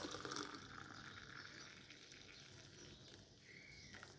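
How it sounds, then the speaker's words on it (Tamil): Steady gushing of hot water being poured into a glass, a continuous watery stream at close range with no talking. "இப்போ சுடு தண்ணி ஊற்றிடுறேன்."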